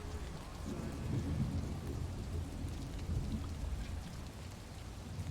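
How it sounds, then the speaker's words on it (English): Heavy rain pours in a college football video game, a dense, continuous downpour with low rumbling thunder underneath, steady and fairly soft throughout. "if it's going to rain that much"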